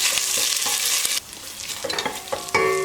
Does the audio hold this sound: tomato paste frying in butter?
yes